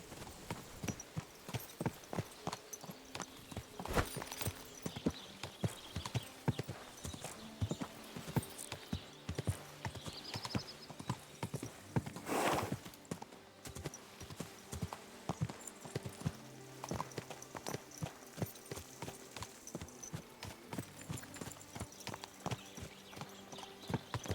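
A horse clip-clops steadily while being ridden in the video game Kingdom Come: Deliverance 2, its hooves making a rapid, even rhythm that is close and continuous, with occasional faint voices in the background.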